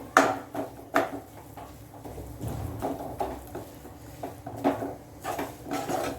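A spoon stirs a bhaji mixture with coriander leaves in a pan, giving soft wooden scraping and knocking strokes in an uneven rhythm, close by and moderately quiet, with no voices.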